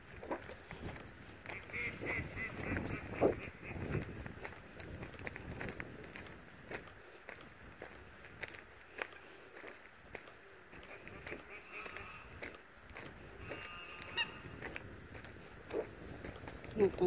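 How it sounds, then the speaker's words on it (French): Birds call faintly outdoors, including a duck's quacks, over rustling and footsteps, with occasional soft voices nearby. "On entend aussi tous les oiseaux."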